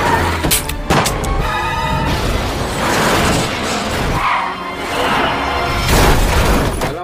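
Film shootout between police and terrorists, with loud sharp gunshot bursts and crashes layered over a dense dramatic soundtrack, impacts recurring irregularly throughout.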